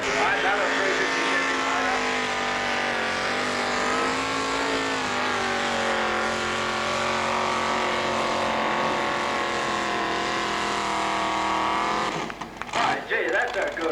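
Pulling tractor roaring at full throttle down the track at a 1986 country tractor pull, a loud sustained engine drone that wavers slightly in pitch before cutting off abruptly near the end, heard close and unbroken.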